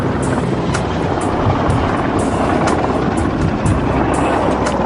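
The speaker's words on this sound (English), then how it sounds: "The helicopter is an unmarked Black Hawk-type chopper, often used by special forces." An unmarked Black Hawk-type military helicopter circles overhead near a mountain peak, giving a continuous broadband rotor roar with faint rhythmic blade chop, loud and unbroken throughout.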